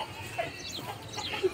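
A village chicken clucks softly nearby, two short, quiet clucks spaced over a low background hum, with no talking.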